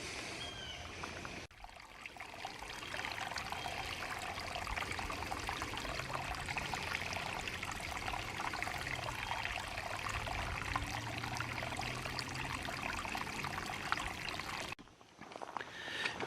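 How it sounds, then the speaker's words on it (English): A stream runs and trickles at Well's Hill/Joy Gleghorn Nature Preserve in Tennessee, a continuous soft rushing flow that holds steady, breaks off briefly near the start and end, and carries no talk. "See the water running."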